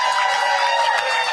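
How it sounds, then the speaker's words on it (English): Audience clapping steadily at a political event as a veteran is recognized, a dense continuous wash of hands with a faint crowd murmur underneath. "Let's give him a round of applause."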